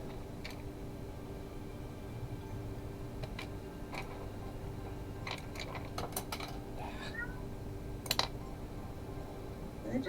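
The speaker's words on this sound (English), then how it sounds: "Did I just hear a cat?" A cat meows faintly several times against steady room hum and light ticking and clicking noises, with no talking.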